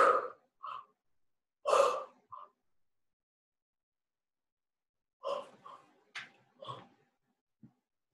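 A person takes slow, deep breaths during a guided energy healing session, giving a few soft airy inhales and exhales separated by long silences, close and quiet.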